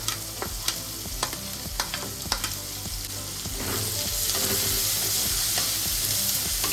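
Onion, garlic, ginger and green chili sautéing in hot oil with dried red chilies for vegetable biryani: a continuous close sizzle broken by sharp spatula taps and scrapes that gives way to a denser, steadier frying hiss.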